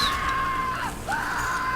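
Enemies in Borderlands 3, during the Bounty of Blood DLC, let out a drawn-out, wavering scream that dips briefly in the middle and then rises again.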